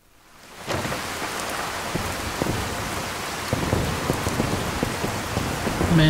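Steady rain pours down in the video game Fallout 4 after a brief quiet start, a dense hiss with scattered drops pattering close by and growing slightly heavier.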